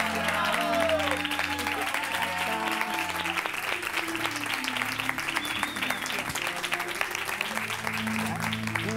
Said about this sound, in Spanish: ¡Más grande ese aplauso!